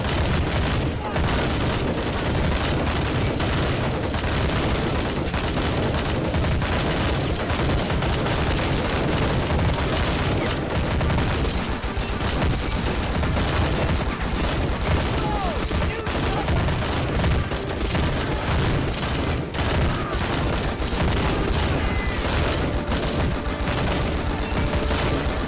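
Gunfire and explosions from a battle simulation video game, dense overlapping volleys and booms in a constant, loud barrage, with a voice talking intermittently over the din.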